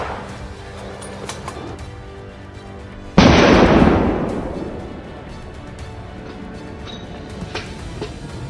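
A single loud gunshot blast rings out during a winter wild boar hunt, a sharp burst at about three seconds that decays into a lingering outdoor echo over a low background rumble.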